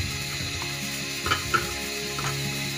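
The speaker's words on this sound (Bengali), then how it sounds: "ব্লেন্ডারে ব্লেন্ড করে নিচ্ছি" A kitchen blender whirs steadily as it grinds three toast biscuits into crumbs for beef tikia kabab, with a constant motor hum and a couple of brief knocks partway through. No one speaks.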